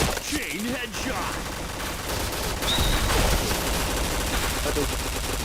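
Rapid gunfire bursts from a shooter video game rattle along, mixed with game effects and players talking over the action.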